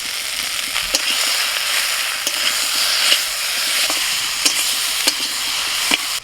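Spice paste of ground lentil-dumpling masala with tomato, salt and turmeric sizzling and frying in a pan while being stirred, with a steady close hiss and sharp scraping clicks of the spoon at irregular intervals, no voices.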